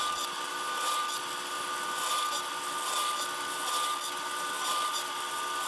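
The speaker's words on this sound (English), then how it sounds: "I set up the drill press so I can set the board up there and drill holes along the outline of the guitar body" A drill press bores holes through a wooden guitar body blank, a steady high-pitched whine running continuously and fairly loud with no pauses.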